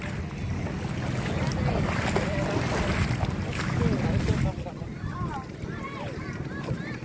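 A small boat's engine rumbles close by amid wind buffeting and splashing water as it arrives off Cordova, Cebu, Philippines, then cuts away to quieter water and wind.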